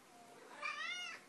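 A talkative house cat gives a single rising, drawn-out meow while waiting to be fed, fairly quiet and close, with no talk over it.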